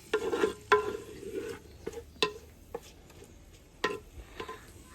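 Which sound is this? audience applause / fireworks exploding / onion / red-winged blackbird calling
onion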